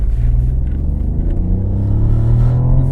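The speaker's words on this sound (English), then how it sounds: "An amazing amount of grunt considering that it's only a 1 litre engine under the bonnet." A Ford Puma ST Hybrid's 1-litre engine gives a deep, continuous rumble from inside the car, holding steady and then swelling slightly as it pulls harder, loud and close with no one talking.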